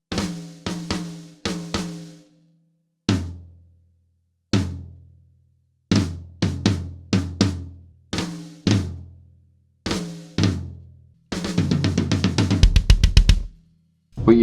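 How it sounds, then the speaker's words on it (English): A Sonor Vintage Series drum kit played dry with only slight EQ and no effects, isolated punchy hits and short fills with clean decays, ending in a fast roll across the toms. "What you're hearing now is the drum kit with just a little bit of EQing on it."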